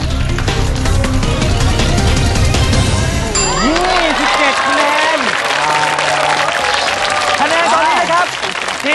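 A game show studio audience bursts into loud, sustained applause and cheering that fills the whole stretch, while a host's voice talks over the clapping.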